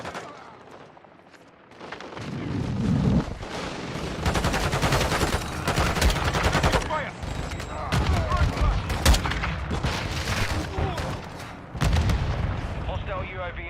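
Dense, continuous gunfire and explosions in Call of Duty: Modern Warfare II, loud and sustained with repeated bursts and booms in a chaotic multiplayer firefight, with game voice callouts layered over the combat.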